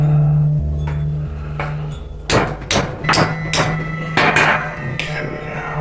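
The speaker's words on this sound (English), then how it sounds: "Just hammering it down in there." Hammering a plug down into an air squib rig: several sharp, close metallic thumps in an uneven run, loud over a steady low hum.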